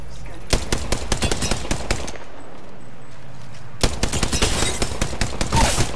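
Rapid automatic fire from a shooter video game match crackles in two dense bursts of close, sharp shots, one for about a second and a half, then a lull, then another extended volley.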